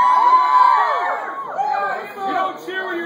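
Crowd at a live concert cheering and whooping, a loud sustained wash of shouts and high voices throughout.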